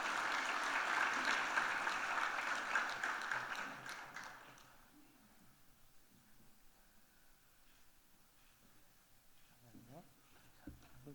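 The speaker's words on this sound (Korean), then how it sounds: "큰 박수로 축하하겠습니다." A church congregation applauds in congratulation at a Sunday worship service, loud sustained clapping for about four seconds that then fades to scattered claps and quiet room noise with a few faint voices.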